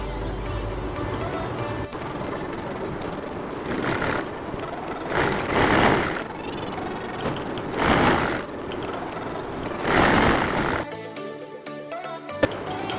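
A sewing machine runs while stitching the hem of a trouser leg, a steady mechanical whir with several louder bursts of faster stitching, close by and continuous, ending in a brief quieter stretch.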